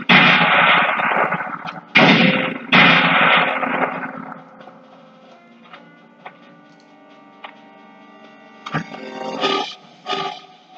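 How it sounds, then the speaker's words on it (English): A grenade lobbed in the Nintendo 64 shooter Perfect Dark: loud blasting bursts come in quick succession, then settle into a quieter ringing tail with scattered ticks before a couple more sharp hits near the end. "Let's go ahead and throw a grenade."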